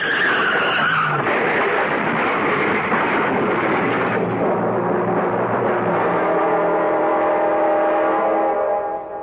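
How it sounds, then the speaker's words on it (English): A car skids on a road covered in hail and ice in a radio drama, giving a long, loud tyre screech that runs for several seconds with no voices. "John, that car ahead. It's skidding"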